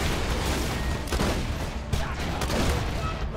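Gunfire from a shotgun in the shooter game Borderlands 2, a dense continuous barrage of blasts and booms filling the whole stretch at steady loud level, with no clear pauses between shots.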